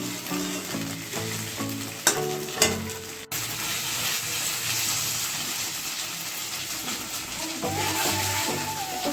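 Steamed pieces frying with a tempering in a pan, giving a steady hiss and sizzle. Several sharp spoon or spatula clacks against the pan come near the start, followed by continuous frying noise.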